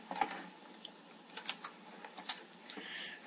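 Quiet, close keystrokes tap on a computer keyboard at an office desk in a short, irregular run of light clicks.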